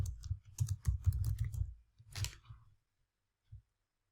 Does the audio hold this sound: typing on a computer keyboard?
yes